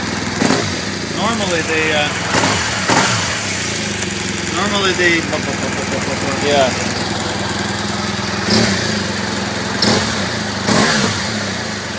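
A new LC motorcycle engine idles steadily on its standard exhaust, a constant close rumble with a few small blips, while people talk over it.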